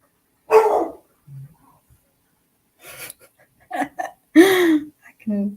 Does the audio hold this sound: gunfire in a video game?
no